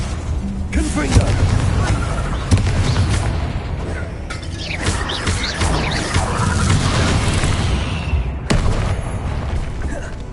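Confringo explosive spells blast repeatedly in the video game Hogwarts Legacy, a series of loud booms and crashing bursts over continuous combat noise, with voices heard in the mix.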